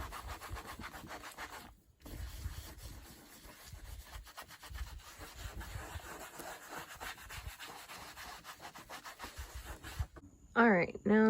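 Saddle soap being rubbed by hand into a leather rodeo saddle gives a steady, close scratchy rubbing that runs with brief pauses. It stops near the end, where a voice briefly speaks.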